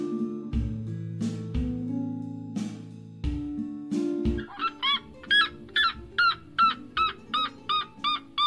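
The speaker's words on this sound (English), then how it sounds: "But we have to stop for these strange birds." Strange birds at Estancia Caiman in Brazil give a series of loud, rhythmic honking calls, repeated steadily about twice a second, preceded by lower hooting notes, with no talk over them.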